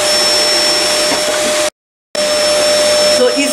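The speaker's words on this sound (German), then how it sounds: "saugt in der Vorratsraum durch, also deswegen der Krach im Hintergrund" A household vacuum cleaner runs steadily in a pantry, a loud continuous drone with a steady whine, cutting out briefly to silence before resuming at the same level.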